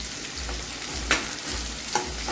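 Onion frying with salt in a pan for egg curry, a close, steady sizzle broken by a few soft stirring scrapes and low thumps at regular intervals.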